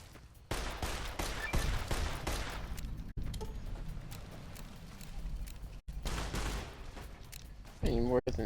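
Gunfire in Fallout New Vegas, several loud bursts of shots and explosive impacts separated by brief silent gaps, with a voice talking over the action near the end.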